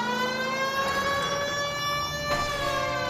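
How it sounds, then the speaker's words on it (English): A police siren in the video game L.A. Noire sounds as a sustained, steady wailing tone with rich harmonics, loud and continuous over a dense background. "You heard the siren."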